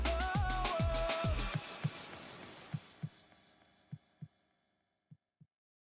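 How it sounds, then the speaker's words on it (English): Heartbeat thumps come in paired beats, first under fading music and then alone, spaced steadily and growing fainter toward the end. "Jamaican heartbeat."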